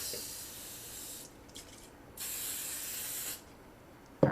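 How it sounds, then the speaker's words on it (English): Cooking spray hisses into a baking dish for chicken enchiladas in two bursts, each about a second long, close and clear, ending with a brief clatter. "cooking spray is your friend in this, because you really need to make sure that it doesn't stick"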